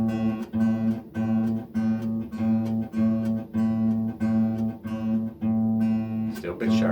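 Acoustic guitar string plucked over and over in a steady rhythm during a lesson, each note ringing with clear harmonics as the tuning knob is turned, the pitch drifting slightly between plucks; close and moderately loud, with no talking.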